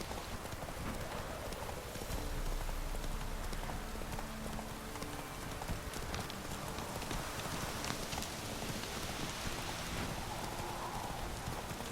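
Horse hooves clip-clop in The Witcher 3 Wild Hunt video game, a steady trotting rhythm set against a dense wash of rain on the ground, fairly close and continuous with no talking.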